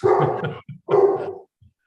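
A dog barks during a housing alliance meeting, two loud close bursts of barking with a short gap between them and a faint yip at the end.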